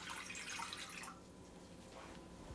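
Harvested rainwater pours into a cool cooking pot for rice, a brief close splashing, trickling pour that tapers off.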